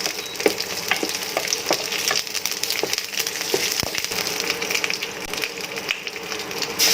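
Onion and lemongrass frying in a pan give off a steady, close sizzle, with occasional light clicks and scrapes from stirring over the constant hiss.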